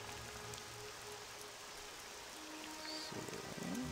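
Steady rain pattering down in the video game Morrowind, a continuous soft hiss filling the background at an even level with a faint tonal music line running beneath it.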